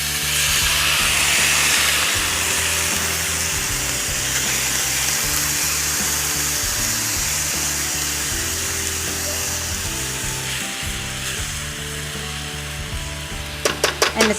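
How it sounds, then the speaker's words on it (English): Quinoa sizzles steadily in a hot pan for a quinoa pilaf, a loud, continuous frying hiss with a low hum underneath, and a few sharp clicks near the end. "So I'm going to add it directly to our dish that's sizzling already."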